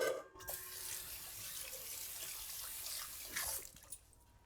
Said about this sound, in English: Okay, so I'm gonna rinse my hands.